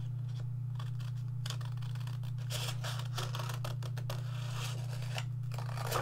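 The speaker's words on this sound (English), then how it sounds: "I'm just going to basically just cut that section out" Close scissors snip and slice through paper in uneven runs of crisp cuts, over a constant low electrical hum.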